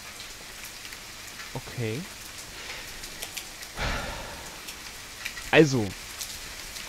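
Rain in the video game The Forest, a soft continuous patter of falling drops under brief bursts of speech and a few voiced interjections.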